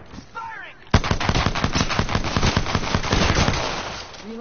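Rapid pistol gunfire from a P2020 in a video game crackles in a fast, loud series of shots lasting a few seconds, with faint game sounds before and after.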